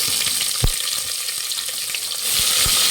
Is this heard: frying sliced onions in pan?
yes